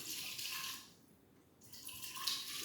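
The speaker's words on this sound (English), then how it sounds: "You see, you can see that cold brew coffee coming down." Cold brew coffee streaming down steadily into a container, a continuous close trickle and splash that dips briefly in the middle before resuming, with no talking.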